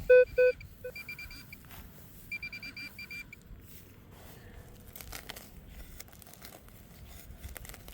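Metal detector tone ringing over a buried target in a park baseball field, heard as short bright beeps, a doubled pair at the start and then repeated chirps, over faint scuffing and rustling.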